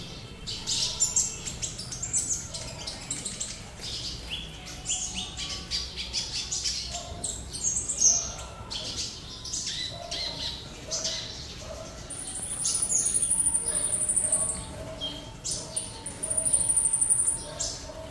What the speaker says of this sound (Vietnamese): Đây là một con bảy màu hot phun giọng rừng luôn mọi người.